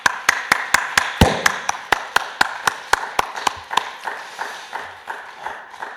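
Congregation clapping in unison during a church dawn worship service, sharp evenly spaced claps in a steady rhythm that ring in the room and gradually fade softer toward the end.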